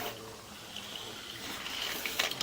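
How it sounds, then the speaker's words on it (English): Water from a running household sink flows through a sewer clean-out drain pipe, a soft, continuous rushing trickle heard up close that grows slightly louder toward the end. "Water's coming from this sink I'm running over on this side of the house"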